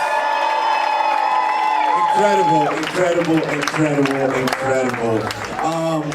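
Wedding reception guests cheer, whoop and applaud the dancers, a loud crowd roar with shouting voices and clapping, continuing steadily while someone speaks over it.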